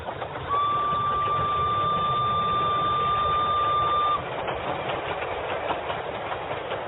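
A train passes in an audio drama, a steady rumbling roll of wheels on track with a long sustained whistle-like tone for several seconds, then fading to a lower rumble.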